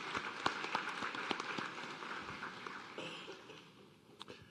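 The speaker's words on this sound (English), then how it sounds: "Let's give them a round of applause as well." Audience applause at a white coat ceremony, a sustained patter of many hands clapping at moderate distance that thins and fades toward the end.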